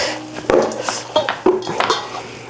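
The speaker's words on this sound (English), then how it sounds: "I could have gotten a more shallow bowl that didn't make so much noise." Homemade breakfast sausage mixture tossed and scraped around a clattering metal bowl, with irregular clinks and knocks over a couple of seconds, close and fairly loud.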